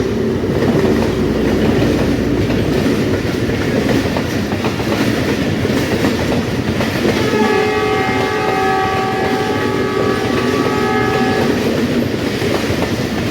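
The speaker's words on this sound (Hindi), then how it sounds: "ये आ गई ट्रेन, ये आ गई जनाब, ये आ गई। देखें जनाब ट्रेन आया है।" A short passenger train rolls past a railway level crossing with a loud, steady rumble and clatter of wheels. Its horn sounds in a long sustained blast midway through, close by and without any voices.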